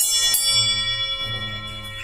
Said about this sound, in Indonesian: Nah, ini namanya bel andong.